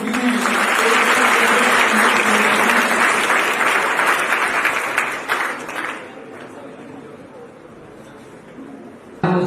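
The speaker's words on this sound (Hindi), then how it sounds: "आज इस सम्मानित समारोह में इन बच्चों के लिए एक बार जोरदार तालियां तो बजती हैं।" Loud, dense applause from a crowd at an award ceremony for student gold medalists, strong for about five seconds before thinning out into scattered claps and a quieter murmur.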